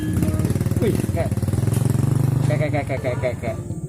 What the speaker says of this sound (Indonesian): Suara motor ini.